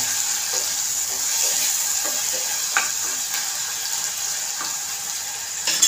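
Tomatoes fry in a pan with onion and ginger-garlic paste, giving a steady close hiss and sizzle that runs the whole time. A few faint clicks and stirring scrapes break through, and a sharper crackle comes at the end.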